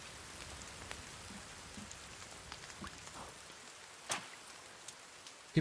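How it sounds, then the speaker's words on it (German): Rain falls steadily in the survival game The Forest, an even hiss with scattered louder drops and small taps, without voices. "Es regnet!"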